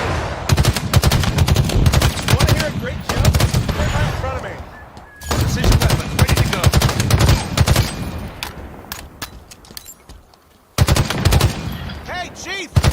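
Rapid bursts of precision-weapon fire in a video game crackle loud and close, with brief pauses between volleys, mixed with in-game voices and effects.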